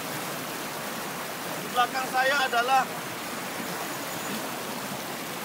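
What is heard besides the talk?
waterfall and river flowing in Sumatran forest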